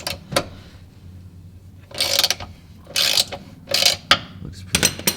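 Ratchet wrench clicking on a Ford Focus ST rear motor mount bolt in a garage, heard as several close, loud bursts of rapid ratcheting over a quiet background, with no talking.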